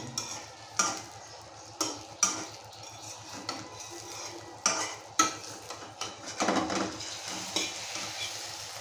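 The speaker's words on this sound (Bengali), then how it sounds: "ডিম ভাজিটা মনে হয় সেই স্বাদ হবে, উল্টানো পর্যন্ত ভিডিওটা করি" An egg frying in a pan, a steady soft sizzle running throughout with intermittent scrapes and clinks of a utensil against the pan, no voices.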